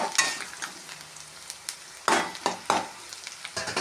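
Onions and spices for a tomato kulambu gravy sauté in a pan, giving a steady soft sizzle broken by sharp scraping stir strokes, close and moderately loud with no talking.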